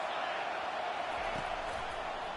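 Dense, steady roar of a stadium crowd at a Washington versus Utah football game, fans cheering on the defense ahead of a big third down, a loud unbroken wash of noise filling the whole clip without pauses.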